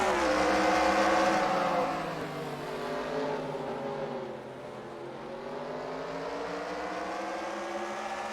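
Race car engines roar and rise in pitch as the pack accelerates at the green flag on the short track at Lanier Raceplex, one loud car sweeping past up close before the drone settles to a steady, slightly more distant whine.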